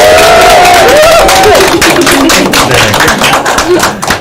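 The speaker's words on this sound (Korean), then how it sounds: "김윤희 선생님 위해서 박수 한번 칠까요?" An audience claps and cheers for a teacher at a Korean community radio event, loud and close, with voices calling out over the dense clapping.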